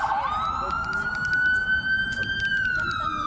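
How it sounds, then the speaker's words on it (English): A siren wails steadily in the background, holding a long rising tone under a low rumble of ambient noise. "You hear the sirens in the background."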